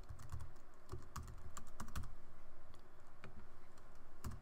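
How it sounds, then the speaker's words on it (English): A computer keyboard is typed on in quick, even bursts of close, crisp key clicks, continuous and fairly quiet, with no voices. "We can type in a title."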